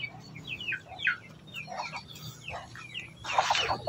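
A brooding hen clucks in soft, irregular bursts over a low background hum, and a sharper, brighter cluck or squawk comes near the end.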